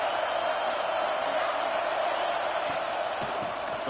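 A football stadium crowd roars steadily as a continuous dense wash of noise, loud and unbroken, with no distinct cheers standing out.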